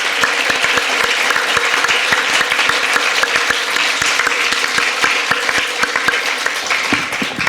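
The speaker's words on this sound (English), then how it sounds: "Let's give one last round of applause to our winners and our jurors." Sustained, dense audience applause at a New York City book awards ceremony honoring winners and jurors, loud and steady throughout with many overlapping claps and no talk.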